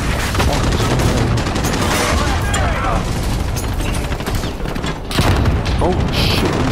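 Dense bursts of automatic gunfire and booming explosions from Call of Duty Modern Warfare on the Shipment map, loud and nearly continuous, with a voice swearing over the chaos.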